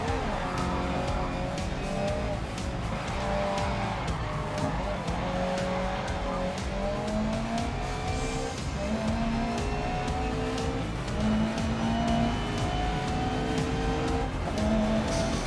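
A race car in the Grid Legends game slides through a corner under handbrake, its engine droning steadily with rising and falling pitch while the tires squeal and skid throughout, loud and close.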